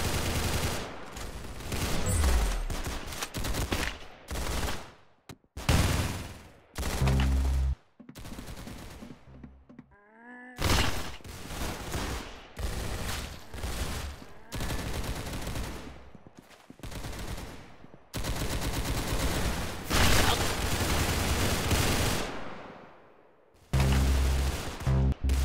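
Rapid gunfire in the Roblox shooter Arsenal, with dense bursts of automatic shots broken by brief pauses and a few isolated cracks, loud and close, with no talk.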